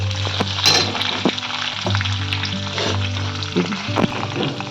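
Fenugreek and cumin seeds sizzle in hot oil, a close, continuous crackling fry with occasional stirring clicks and a low steady hum beneath, no voices.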